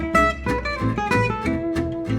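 Guitar plays a lick in gypsy jazz style, a quick run of plucked single notes in swinging rhythm, close and clear with no talking.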